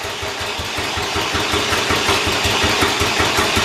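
A John Deere 212 lawn tractor engine idles loud and close just after carburetor tuning, running with a steady, even low throb and no voices.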